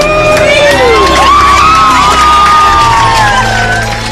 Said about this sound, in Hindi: और फिर सभी बैठे लोग जोर से चिल्लाए,